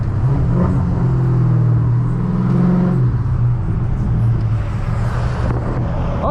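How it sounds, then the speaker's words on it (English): A Dodge Hellcat in rush-hour traffic gives a loud, close engine rumble that rises and swells as it accelerates, with a steady deep roar and road noise throughout and no talking. "Oh shit, a fucking Hellcat."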